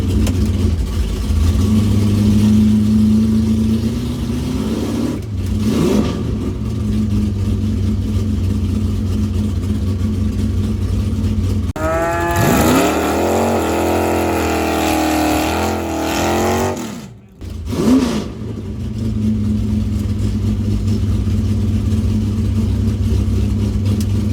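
A loud 1965 Chevrolet Impala SS drag racing engine idles and rumbles, then roars through a hard rev with rising pitch before cutting off and settling back to a steady idle.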